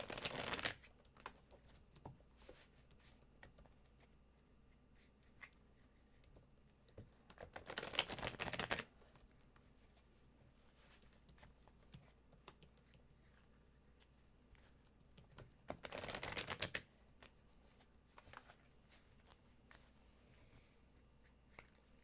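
Tarot cards from a Pagan Cats deck are shuffled in three short, crisp riffling bursts separated by long quiet pauses, close and fairly soft.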